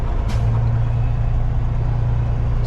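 A truck hauling a trailer turns around, its engine rumbling low and steady, with a short burst of air-brake hiss near the start.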